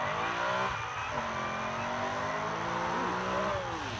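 A street race car accelerates hard away from the finish line at a Mexican street race, its engine note climbing and sweeping upward with a brief tire squeal, loud and continuous over crowd noise.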